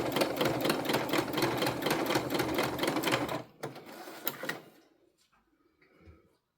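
A sewing machine stitches a tote bag in a fast, even mechanical clatter for about three seconds, then stops, followed by a few light handling clicks and quiet.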